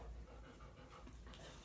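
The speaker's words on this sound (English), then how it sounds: "Our panting dog." Elderly boxer dog panting close to the microphone, a soft, faint, breathy rhythm with no talking.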